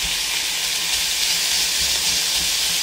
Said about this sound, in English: So now the Bolognese beef is steamed with no oil, just hot pan.